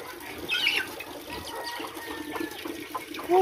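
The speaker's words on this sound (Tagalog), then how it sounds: "Yan yung mga sisiw mga kaibigan" Native chicken chicks peep in thin, high chirps scattered across a soft outdoor background, with a hen clucking faintly nearby.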